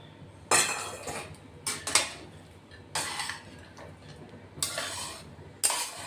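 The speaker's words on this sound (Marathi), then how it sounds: "तळलेले शेंगदाणे ते टाकून घेतोय आपण आता. तेही मस्त मिक्स करून घेऊ." Fried peanuts are stirred into a dish in a pan. A metal spatula clinks and scrapes against the pan in a few separate sharp bursts, with quieter pauses between them.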